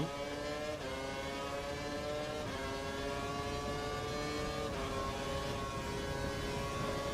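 Formula One race car engine in F1 2012 at the European Grand Prix, a steady high-pitched whine held at high revs with brief dips at gear changes, continuous and alone.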